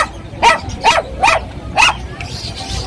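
Small toy poodle barking indoors: four sharp, close yaps at fairly even intervals, followed by a quieter, whiny trailing sound, with soft background noise.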